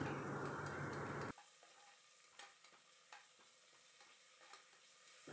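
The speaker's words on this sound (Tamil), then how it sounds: "இதில் இப்போ வந்து கசகசப்பட்டையை போட்டு நல்லா வதக்கிக்குவோம்" Bay leaf and cinnamon sautéing in hot oil for mushroom dum biryani, a loud sizzle that cuts off abruptly and leaves faint scattered clicks and stirring ticks.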